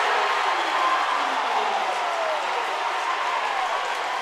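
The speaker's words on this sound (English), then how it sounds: "Sam Sensky and the Hawley crowd erupts" Home crowd in a Minnesota high school boys basketball gym erupting after a go-ahead steal and score, a broad steady wash of cheering and applause filling the whole stretch at moderate distance.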